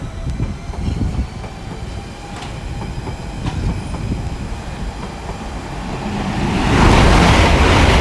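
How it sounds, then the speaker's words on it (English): An IET (Intercity Express Train) passes through Ealing Broadway station on the Great Western Main Line, a loud, close rumble with rail clatter that swells into a roaring rush near the end. "looks to be an IET pass"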